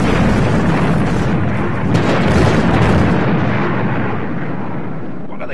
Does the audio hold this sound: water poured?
no